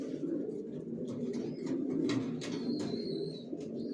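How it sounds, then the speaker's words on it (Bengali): Racer pigeons on a rooftop loft coo softly and repeatedly, with a few faint chirps and a low background hum, no speech over them. "ছাদেও কবুতর আছে"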